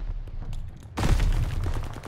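Gunfire in a Call of Duty Vanguard firefight over an objective, with distant shots giving way to a sudden loud burst of rapid rifle fire that continues in dense volleys.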